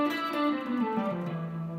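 A distorted electric guitar plays a short descending run in E Phrygian mode, several notes stepping down in quick succession, moderately loud and with no talking.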